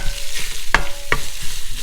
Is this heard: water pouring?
no